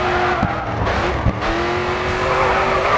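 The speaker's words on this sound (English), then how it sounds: "Next corner, let's see a drift." A racing car in the GRID 2 video game drifts through a corner, its engine droning loudly and steadily while the tires squeal in a long sustained skid, with brief gear or bump thumps along the way.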